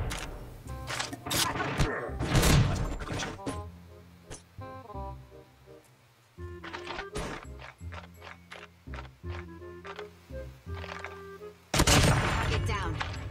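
Argus shotgun firing in the Call of Duty Mobile video game, with loud clustered bursts of gunfire and other game effects mixed through the stretch amid music-like tones.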